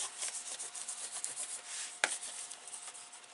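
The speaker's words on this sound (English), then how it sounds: "So if you want to give these a quick rub while you're here." Pieces of a paper exploding gift box being rubbed by hand, a soft close brushing and scuffing in short repeated strokes with one sharper tap midway, quiet and alone.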